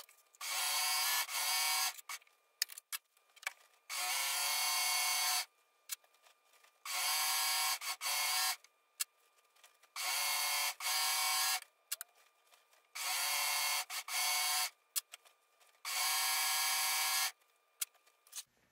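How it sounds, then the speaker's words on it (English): A serger overlocks the freshly sewn seams of a shirt dress in about six bursts of close, steady motor whirring. Each run lasts one to two seconds and is separated by brief quiet pauses. "So I'm just going to serge all these seams I just sewed."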